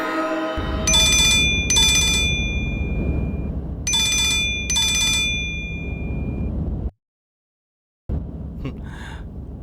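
A telephone rings loudly in a TV drama scene, two paired electronic trills repeated twice over a background music bed that cuts out briefly before resuming.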